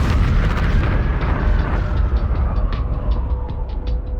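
An explosion in the video game Twisted Metal, a loud deep rumbling roar with heavy low boom that rolls on and slowly thins, crackling debris-like ticks scattered through the tail.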